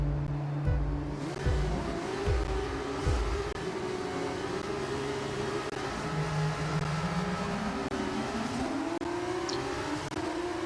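F1 cars in the F1 25 video game launch off the start at Melbourne, engines revving hard and climbing through gears, several cars overlapping in a loud, busy roar with whining pitch sweeps.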